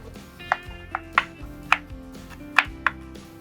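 A knife chops mango on a cutting board for a Bengali smoked mango chicken dish, about seven sharp, close knife strikes in an uneven rhythm, with no talking.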